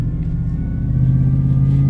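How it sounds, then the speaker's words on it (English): The power steering pump on a 2004 Chevrolet Suburban with a new one-in dual-out muffler whines steadily over a low, constant engine and exhaust hum while driving, close and continuous. "That whining sound you hear, that's my power steering pump."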